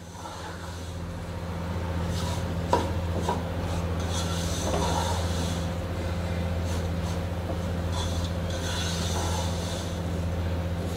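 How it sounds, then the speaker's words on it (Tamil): Rava khichdi with vegetables is sautéed in a pan, with a steady low sizzle and scraping rasp of stirring running throughout, with a constant hum beneath. "இப்போ நல்லா வதக்கிட்டுருக்கோம், இன்னும் ஒரு 30 செகண்ட்ஸ் வதக்க போகிறோம்."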